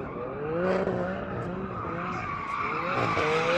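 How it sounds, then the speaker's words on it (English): A Mercedes-AMG C63 Black Series, tuned to about 750 hp, warms its tyres before a drag race, with a loud, sustained tyre squeal and skid over a revving engine throughout. "I'm going to just warm up the tyres a little bit"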